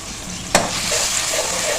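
Chillies and turmeric fry in oil for a purslane saag, giving a steady sizzle with one sharp stirring clink partway through, close and continuous with no talking.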